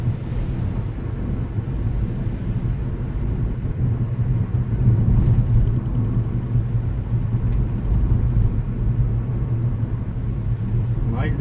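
Nissan automatic car rolling downhill with overdrive off, its engine giving a steady low rumble that swells slightly under heavy wind and road noise inside the cabin, with no clear talking.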